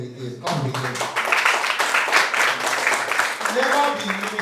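An audience claps at a film festival cinematography masterclass workshop, a dense, steady wash of applause that swells in suddenly and holds for several seconds, with voices mixed into the crowd noise.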